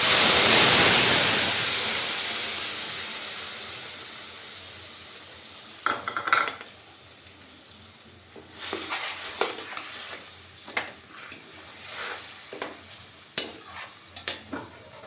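Spice paste for a local chicken curry frying in a pan: a loud hiss at first that settles into a soft sizzle, then a run of sharp scraping stirs and spoon knocks.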